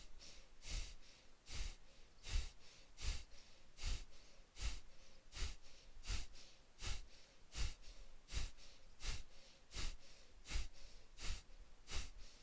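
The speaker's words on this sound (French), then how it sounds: "Et donc on va inspirer." A yoga instructor breathing deeply during a vinyasa session: a long run of regular, forceful breaths, roughly one every three-quarters of a second, close and evenly paced, with no talking.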